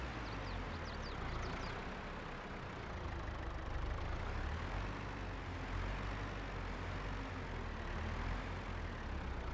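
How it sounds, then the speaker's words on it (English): A tractor engine idles steadily in a steady low, rumbling drone, fairly close and unchanging, with no talk over it. "We can drop this cedar, park our tractor."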